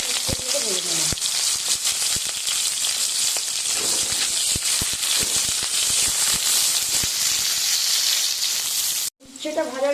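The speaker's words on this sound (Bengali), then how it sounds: "একই তেলেতে শুক্তোগুলো ভেজে নেব" Shukto vegetables frying in oil, a loud dense hiss and sizzle with scattered sharp crackles, close by and steady, a brief low voice-like sound at the start, cutting off abruptly near the end.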